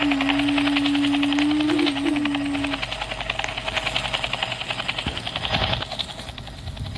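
A helicopter in the SCP Foundation video game makes a close, loud rhythmic rotor chop over an engine drone, steady throughout, with a tone sounding at the start.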